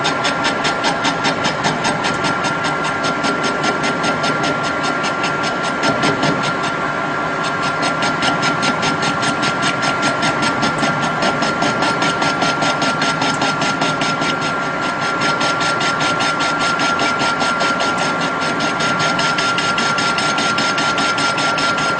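A metal lathe with an insert tool takes light, intermittent facing cuts on a part held in a steady rest, a steady machine hum and high-pitched cutting whine running continuously and fairly loud, with no talk.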